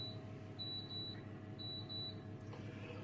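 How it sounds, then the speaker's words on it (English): An oven timer signals that a loaf of bread is done, giving faint repeated high electronic beeps in short pairs against a quiet kitchen background. "Oh, and there's the beep."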